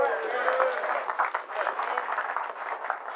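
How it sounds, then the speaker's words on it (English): A church congregation claps hands during a memorial love march service, busy irregular clapping mixed with voices calling out over it. "Let's give God a hand clap for love."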